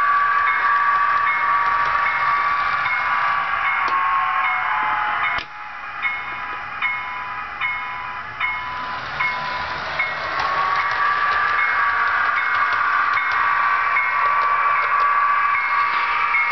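A model train locomotive runs around a home layout, producing a continuous whirring hum with steady tonal whine and occasional ticking clicks of wheels on track joints, fairly loud and without speech.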